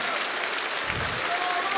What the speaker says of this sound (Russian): Спасибо за ваши аплодисменты!